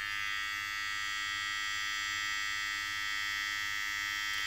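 A Ufree U1257 electric hair trimmer runs steadily nearby, producing a constant high-pitched motor buzz with a faint low hum and no talking.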